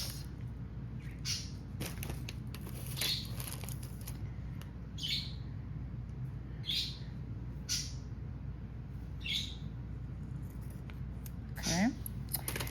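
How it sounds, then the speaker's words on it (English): Scissors snip through folded paper in a few separate crisp cuts spaced a second or two apart, close up, with quiet room background. "And then you're just gonna go ahead and cut that. Let me get my scissors."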